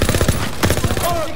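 Rapid gunfire from a World War II battle in Call of Duty WWII on PC, a dense close string of loud shots and bursts, with shouting voices over it.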